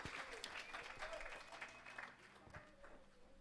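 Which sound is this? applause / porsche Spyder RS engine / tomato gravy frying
applause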